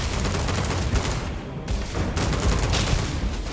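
Rapid bursts of gunfire from a scoped rifle during combat in the video game Starfield, loud and dense throughout, with a brief lull in the middle before the shooting resumes.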